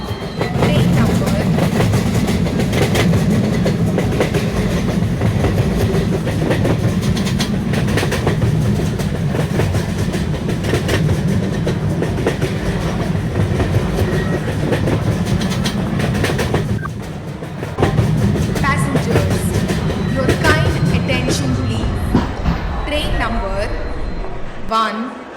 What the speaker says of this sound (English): Tejas Superfast Express is arriving at platform number 5.